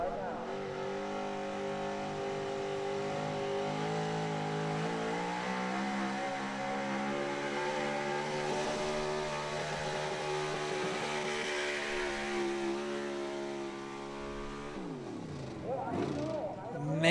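A 1976 Ford pulling tractor roars at full throttle as it drags a sled down the track at a truck and tractor pull, its engine note holding loud and steady with rising harmonics before easing off near the end.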